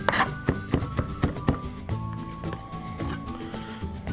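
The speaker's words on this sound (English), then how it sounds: "chop on this, a finer chop. We don't want people biting into big hunks of fresh garlic." Close knife strikes rap out a quick, uneven run of chops on a cutting board as fresh garlic is minced finely, each sharp thunk clear against a quiet room.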